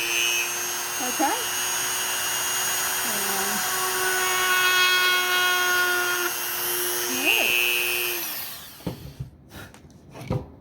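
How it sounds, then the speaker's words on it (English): A Dremel rotary tool drilling a hole whines at a high steady pitch for several seconds, dipping in speed a few times, then spins down and stops, followed by a few handling clicks; a person speaks briefly. "I'm going to turn my Dremel on."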